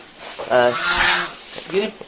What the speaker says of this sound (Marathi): Guinea fall.